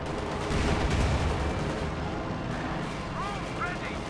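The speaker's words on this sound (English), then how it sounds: "he uses it with heat shells there going off in the other Panzer or T-34 there" In Company of Heroes 2, HEAT shells strike a Panzer or T-34 in a dense rumble of booming impacts and battle noise, with a caster talking over it.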